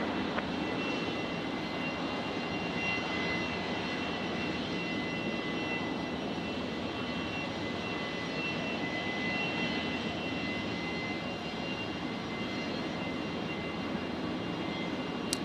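A jet airliner's engines roar in a steady, loud drone at Brisbane International Airport on runway 19 left at night, the sound continuous and unbroken.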